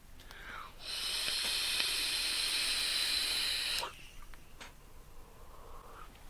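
Vapour from an IJOY Diamond PD270 vape kit is blown out in one steady, airy hiss lasting about three seconds. It starts and stops abruptly against a quiet room.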